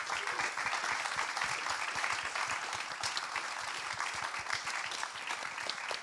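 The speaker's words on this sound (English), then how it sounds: "please give them another round of applause" Audience applause for a panel at the COP26 climate conference: a dense, steady patter of many hands clapping from a crowd, continuous for six seconds at moderate distance, with no voices over it.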